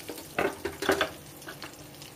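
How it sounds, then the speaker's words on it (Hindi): Whole red chilies and a bay leaf dropped into hot oil, a few crackling sizzle bursts and spits over a soft background. "सबसे पहले डालेंगे साबुत, लाल मिर्च और तेज पत्ता"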